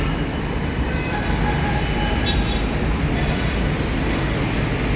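A Manila LRT light rail train rumbles steadily with broadband rolling noise and faint high squeals, a continuous moderate drone with no pauses.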